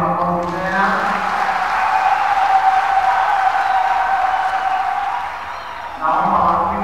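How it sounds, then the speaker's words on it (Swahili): A church congregation applauding at a commissioning service, a sustained wash of clapping that eases off near the end before a burst of voices returns. "Wapige makofi tena."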